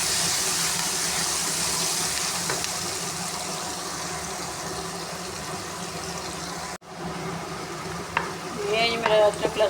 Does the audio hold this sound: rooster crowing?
no